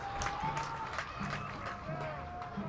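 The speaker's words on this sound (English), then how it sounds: "Thank the Icelandic national team once again for this Viking clap that seems to be at every sporting event these days" Stadium crowd at a Colorado Springs Switchbacks versus El Paso Locomotive soccer match performing the Viking clap, a few spaced, sharp claps rising from a steady wash of distant crowd noise.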